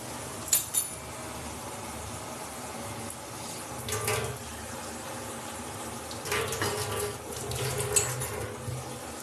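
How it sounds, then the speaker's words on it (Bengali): Tap water runs into a bowl in a home kitchen while a cabbage manchurian is being made, a soft continuous splashing stream with a few clinks of the vessel, moderately close and with no talking. "আর ততক্ষণ একটু পাত্রে জল নিয়ে আসবো এই সস তিনটে গুলে নেওয়ার জন্য"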